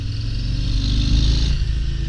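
A 2022 Harley-Davidson Low Rider S motorcycle engine accelerating up close, a loud steady rumbling roar with rising pitch throughout.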